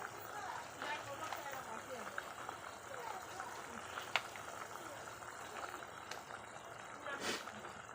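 Puttu steaming on a stovetop, with water boiling underneath to give a steady, soft bubbling hiss and light crackle close by, with one brief clink partway through.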